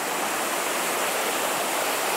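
Rushing water from a small river in the Brecon Beacons, a loud, steady broadband roar of flowing current close by, continuous and unbroken with no voices.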